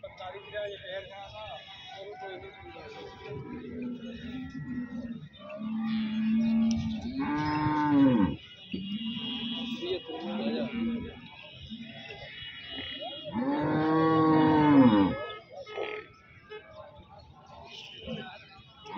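Buffaloes moo at a busy livestock market in Arifwala, with two long, loud, drawn-out calls rising over steady crowd chatter and people talking nearby.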